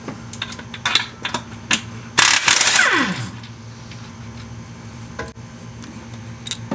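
A ratchet with a 22 socket works a timing cover nut on a 2008 Ford F150 5.4, giving sharp metallic clicks and clatter, a short burst of rapid ratcheting, then a few scattered clinks.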